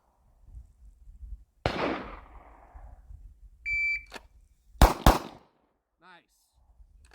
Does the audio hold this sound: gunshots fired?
yes